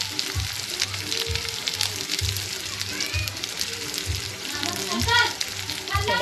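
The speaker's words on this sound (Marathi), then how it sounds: "बघा, हा मसाला टाकलाय तेलामध्ये" Ground masala, turmeric and mutton masala fry in hot oil with a continuous crackling sizzle and occasional spatter, while someone talks over it.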